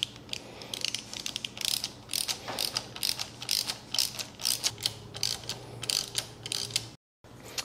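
A ratchet wrench clicks rapidly in quick bursts while tightening a bolt to mount barkbusters on a Yamaha Tenere 700 motorcycle, close and crisp, with a brief gap near the end.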